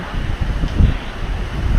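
Strong typhoon wind buffets outdoors in gusty, rumbling bursts, loud and roaring close to the microphone, with no talk.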